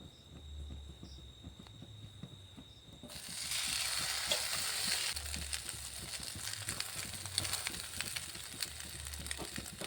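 Soaked bread slices hit hot oil in a frying pan, a faint background rising into a steady, close crackling sizzle that continues to the end.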